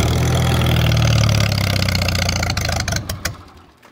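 Farmall Cub tractor engine fitted with a Wagner loader, running at a steady close idle, then sputtering and dying away with a few clanks near the end.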